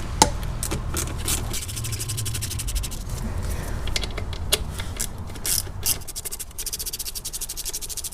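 A 1/4-inch ratchet with a 10mm socket loosens bolts on an engine during a cylinder leak-down test, giving repeated quick clicking bursts close to the microphone with short pauses between turns.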